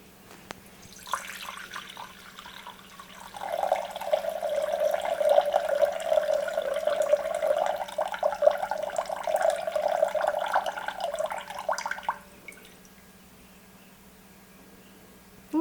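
Water running from a tap into a measuring container for a coconut oil shampoo bar: a steady, fairly close stream that rises in pitch as the vessel fills, then cuts off abruptly, leaving quiet room tone.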